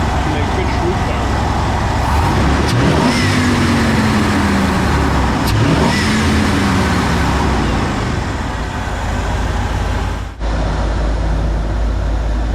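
A Ford car engine runs continuously, producing a loud, steady, broadband rumble that holds an even level for the whole stretch, with only a brief dip near the end.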